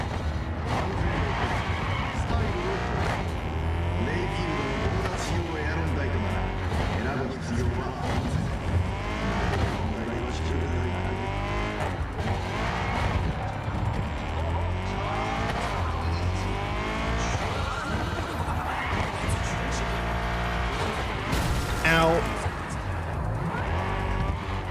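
Car in the video game Cyberpunk 2077 driving hard with engine revving and tires squealing as it slides through turns, a continuous loud engine drone with skid screeches throughout.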